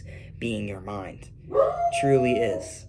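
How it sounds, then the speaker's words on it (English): A pet dog barks and yips in short bursts close by, the sharp calls overlapping with a person talking over them. "And he loves barking at absolutely everything."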